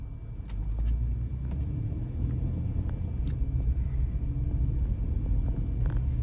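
Car being driven on the road, a steady low engine and tyre rumble heard from inside the cabin, with a few faint clicks and rattles over the drone.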